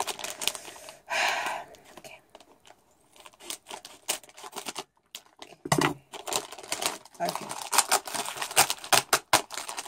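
Close-up crinkling, snipping and tapping of plastic packaging being cut with scissors and pulled apart, opening a Tsum Tsum toy, with faint murmuring in the background.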